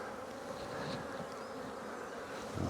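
Honey bees hum in a dense, steady buzz from an opened hive during a hive inspection, close and continuous with no voices.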